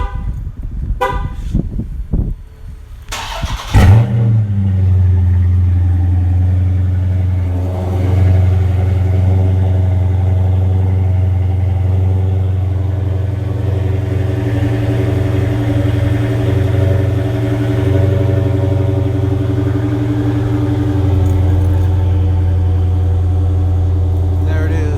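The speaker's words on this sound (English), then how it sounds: "It's a cold start." A 2016 Dodge Charger Scat Pack fitted with Flowmaster Super 10 exhausts cold-starts with a quick crank, then settles into a loud, steady, deep rumbling idle that runs on without a break, close to the exhaust.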